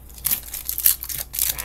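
Something torn in half by hand for the trash, giving close, crinkly ripping and crunching bursts in a few uneven pulls.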